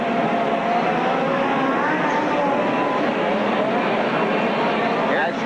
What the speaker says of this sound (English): Down into turn number 1, A lane for Eric Harris, B lane for Jerry Welchel.